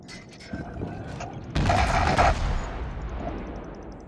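A heavy boom of distant naval gunfire from the USS Marblehead in World of Warships rolls out, followed by a long rumbling decay, with faint mechanical game sounds in the background.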